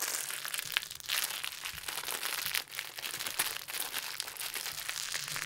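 Crinkly plastic packaging being handled and pulled open during an unboxing of Harbor Loot products, a steady close-up rustle and crunch lasting several seconds with no talking.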